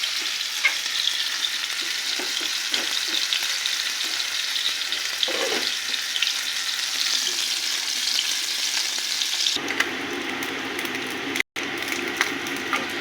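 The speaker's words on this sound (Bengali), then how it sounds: "আমাদের এদিকে শাকটা সিদ্ধ হবে, মাছটাও ভাজা হয়ে যাবে।" A large fish fries in a pan for a red amaranth greens dish, giving a steady, close crackling sizzle with faint stirring touches throughout, then shifting abruptly to a thinner hiss near the end, with no voices.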